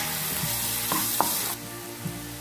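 Cumin rice with chopped green chili and carrot pieces being stirred and fried in a pan, a steady close sizzle with a few scraping spoon strokes, no voices.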